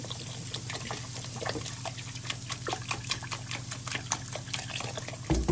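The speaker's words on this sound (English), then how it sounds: "and pour in the milk." Milk poured into a bowl of whole-wheat pancake batter with eggs, a quiet close trickle and glug of liquid with small splashes, no talking.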